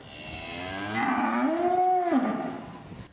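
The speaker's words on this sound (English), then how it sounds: "Past a calf called Cassie who keeps on saying moo." A cow's long, drawn-out moo, loud and close, rising then falling over about a second, used as a sound effect in a children's picture book read aloud about a calf at a zoo.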